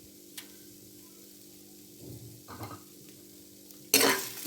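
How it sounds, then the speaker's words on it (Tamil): Roasted dried chillies, turmeric, rock salt and tamarind are stirred in a pan on a gas stove, giving soft scraping and light sizzling scuffs, quiet and intermittent, then a louder burst of rustling stirring at the end. "இப்போ இதை நல்லா கலரி விட்டுட்டு நம்ம வந்து கேஸ் ஆஃப் பண்ணிடலாம்"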